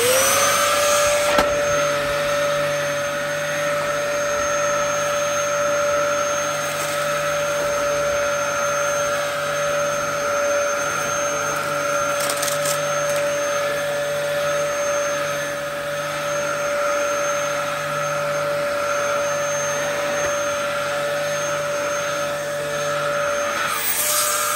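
A vacuum cleaner runs steadily and loudly for the whole stretch during a mess test, with a constant motor whine and broadband suction roar, starting and stopping sharply at the ends and no talking over it.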